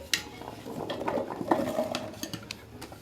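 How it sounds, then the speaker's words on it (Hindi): Chopped carrot pieces tipped into a mixer grinder jar, giving a run of light irregular clatters and taps against the jar, close and moderately quiet, with no talk over it. "इसे हम सारे को जार में डाल देते हैं"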